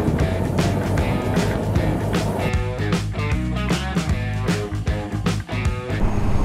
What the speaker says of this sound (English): Got a bloody supercharger on this.